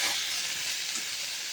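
Turmeric and salt being stirred into a fish curry frying in a pan with potato, taro and eggplant: a steady, close, bright sizzle with soft stirring scrapes, no voices.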